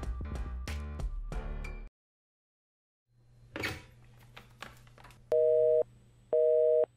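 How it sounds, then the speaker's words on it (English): Two bursts of a telephone busy signal near the end of the clip, each a steady dual tone cut off cleanly, following rustling and a low hum. "this is a sound you would hear when you tried to call someone if they were already on a phone call"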